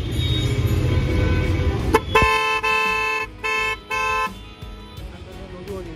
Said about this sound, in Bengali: আফটার মার্কেটের যেই হর্নটার কথা আমি পার্টিকুলারলি বলছি, ওই হর্নটার আওয়াজটাও বেশ ভালো লাগে।